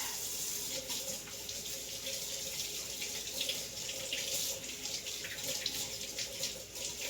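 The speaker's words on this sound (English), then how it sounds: "Wash my hands." A kitchen faucet runs steadily while hands are washed under it during chicken preparation, a continuous close splashing stream with no speech.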